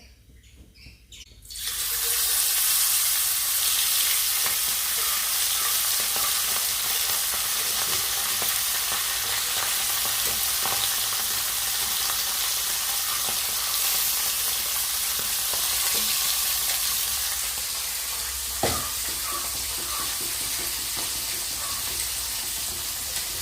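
Small mullan fish hit hot oil in a pan and break into a loud, continuous crackling fry that holds steady and close for the rest of the stretch, with a brief clink near the end and no voices.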